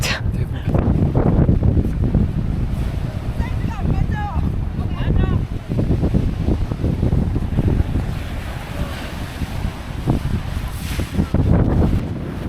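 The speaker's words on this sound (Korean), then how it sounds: "바람 진짜." Strong wind buffeting the microphone on an island coast, a loud, continuous roar with gusts rising and falling and surf rumbling beneath, while people talk briefly in the middle.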